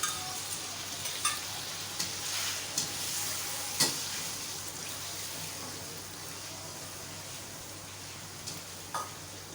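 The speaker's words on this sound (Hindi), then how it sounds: "मैं इसमें दही डाल रही हूँ।" Yogurt goes into a pan of sizzling vegetable aloo pulao, a quiet steady frying hiss broken by a few soft clinks of a stirring spoon.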